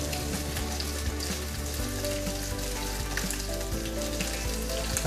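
Chicken lo mein with garlic frying in a pan, a dense continuous sizzle with scattered crackles and pops, close and steady throughout, no talking.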